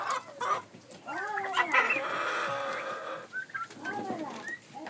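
Turkey hens cluck and call while pecking at and eating cabbage in a farmyard, moderately close, with overlapping calls and a brief pause midway.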